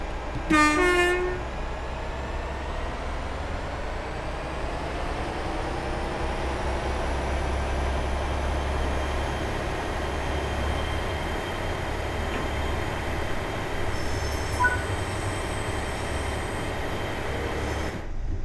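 A GWR Class 802/1 IET bi-mode train pulls away on the Riviera Line in Train Sim World 6, heard from outside. A brief horn-like tone sounds at the start, then a steady, loud engine and rail rumble builds as it departs.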